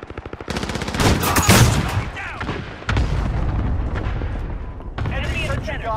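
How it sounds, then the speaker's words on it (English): Loud bursts of booming explosions and gunfire from a cluster strike in a Call of Duty-style shooter game, a dense barrage in the first half easing into continued rumbling blasts, with game voices beneath. "Enemy cluster strike"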